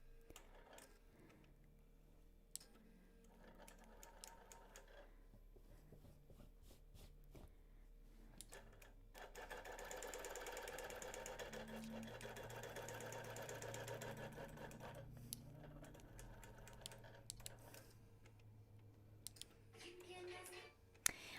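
A home sewing machine stitching a quilt, running in a steady mechanical whir that swells into a sustained, louder stretch of fast stitching before slowing back to quieter clicks and pauses.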